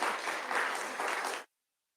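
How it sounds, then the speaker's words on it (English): Audience at an annual meeting applauds with a dense, steady burst of clapping lasting about a second and a half, then stops abruptly into silence. "let us offer a resounding applause again"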